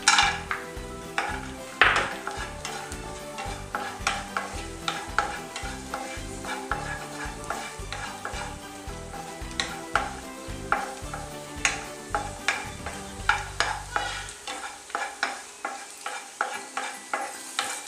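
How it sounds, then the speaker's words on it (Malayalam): Raisins and cashews fry in hot ghee in a pan, a soft sizzle under repeated close scraping and stirring strokes and light clinks of a spoon against metal, steady rhythmic stirring that eases off near the end; no talk. "ഞാൻ ഇതിനകത്ത് ആദ്യം കിസ്മിസ് ഫ്രൈ ചെയ്തെടുക്കാൻ പോവാം. അതിൻ്റെ കൂടെ തന്നെ കശുവണ്ടി ചേർത്ത് വെക്കാം."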